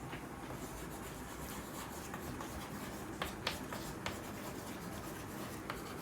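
Writing on a board during a chemistry lesson, heard as faint scattered scratchy strokes and a few sharper taps over a steady background hiss, with no one talking.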